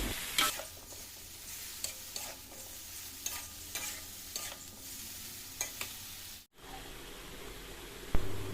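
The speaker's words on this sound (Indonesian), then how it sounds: "jangan lupa diaduk lagi" A spoon scrapes and stirs a crab dish in a hot pan, with steady sizzling and frying hiss underneath and intermittent clinks of the utensil against the pan, fairly quiet and close, without talking.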